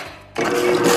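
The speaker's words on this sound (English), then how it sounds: "Now we mix." Slime is mixed, with a near, buzzy mechanical whirring that starts abruptly after a brief quiet moment and holds steady to the end.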